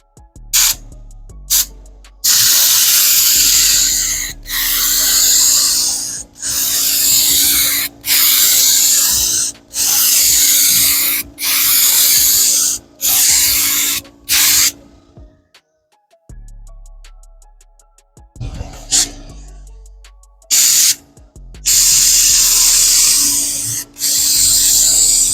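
Spray can laying clear coat onto restored 30-year-old Honda Civic EF tail lights outdoors, a series of loud sustained hissing bursts with short pauses between them.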